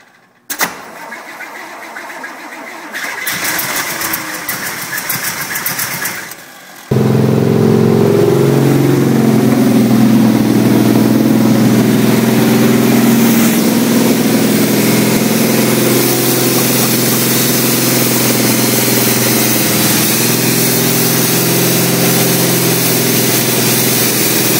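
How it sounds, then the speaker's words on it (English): A 1937 Packard 115C hot rod engine cranks and catches, then settles into a loud, steady running rumble close by, with no talking over it. "Gentlemen, we have ignition. My hot rod is running."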